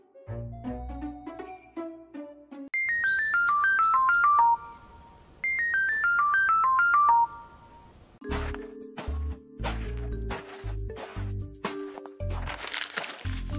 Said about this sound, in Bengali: ফোন করে দেখ, ধর এটা ফোন লাগাই যাবে।